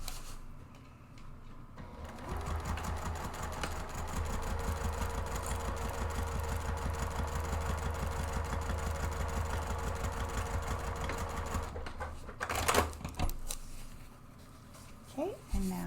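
A sewing machine stitches purse organizer seams, running as a steady mechanical whir with rapid regular pulses for about ten seconds before stopping, followed by a few handling clicks.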